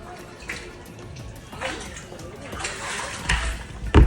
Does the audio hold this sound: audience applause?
no